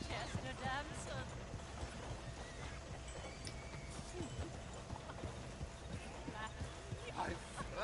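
A horse-drawn coach in Red Dead Redemption 2, with soft rhythmic hoof clip-clops and rolling wheels going on throughout under quiet, faint background game audio and occasional speech.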